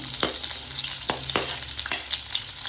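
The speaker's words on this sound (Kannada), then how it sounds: "ದೊಡ್ಡದಾಗಿ ಹೆಚ್ಚಿಟ್ಕೊಂಡಿರೋ ಈರುಳ್ಳಿನ ಹಾಕೋತಾ ಇದ್ದೀನಿ" Coarsely chopped onions crackle and sizzle in hot oil in a wok, with a few sharp scraping clicks from stirring in the pan.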